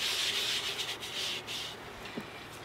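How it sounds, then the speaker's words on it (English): Sponge rubbing across abrasive non-slip gelcoat on a roughly 50-year-old boat deck, a steady close scratchy scrubbing that swells and eases with each stroke, alone without talk. "Sponge is starting to fall apart, I guess fairly predictably, wiping it on non-slip."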